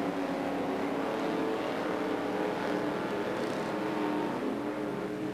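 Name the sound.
stock cars racing down the straight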